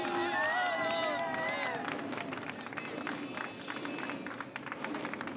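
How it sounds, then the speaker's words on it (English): Crowd applause and cheering rise around the podium after a FIM Junior motorcycle race at Circuit de Barcelona-Catalunya, mixed with a commentator's voice and babble, moderately distant. "A deserved round of applause for Senna Aegis then."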